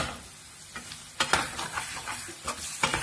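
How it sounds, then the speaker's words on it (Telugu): Masala paste fries in hot oil for drumstick curry with milk, a soft continuous sizzle broken by several sharp scrapes and clinks of a spoon stirring in the pan, close up. "ఈ మసాలా ముద్ద కూడా ఈ నూనెలో వేసి"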